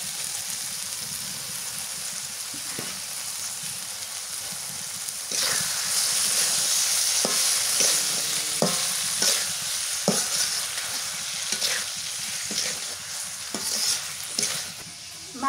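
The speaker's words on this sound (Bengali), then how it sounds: "মাছটাকে ভালোভাবে কষান করবো" Prawns sautéed with spice paste in a pan: a steady, close sizzle that grows louder about a third of the way in, broken by repeated scraping stir strokes.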